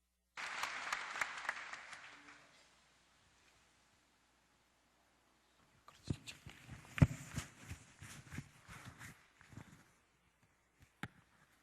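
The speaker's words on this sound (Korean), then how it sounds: "박수로 맞으십시오" A church congregation at a prayer meeting claps briefly and briskly to welcome a speaker. The clapping is followed by quiet, then footsteps and rustling as someone approaches.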